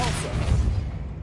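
Depulso spell fired in Hogwarts Legacy, a short, soft thump of force with a low rumble that fades quickly after a brief voice.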